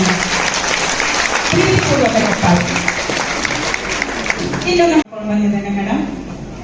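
An audience breaks into loud applause in a hall for a film actor, a dense burst of clapping that cuts off abruptly and picks up again softer near the end.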